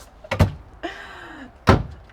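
Cabinet doors in a Grand Design Reflection 311BHS RV: two sharp knocking closes with a sliding, rolling sound between them, close and fairly loud.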